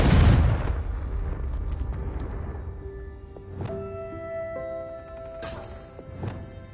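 A Confringo spell in Hogwarts Legacy bursts with a loud, booming explosion at the start that rumbles and decays, followed by scattered softer magical pops and chimes.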